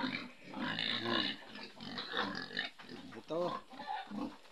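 Fattened pigs kept as a sibling's livelihood on a small family farm grunt and snort close by in repeated rough bursts, with a person talking over them.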